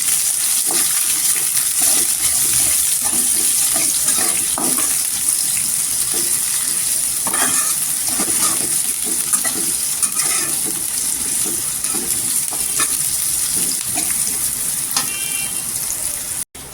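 Chopped onion frying with curry leaves in hot oil for a spicy dal and potato amti, a loud, continuous close-up sizzle with frequent crackles and spoon scrapes, steady throughout and ending abruptly.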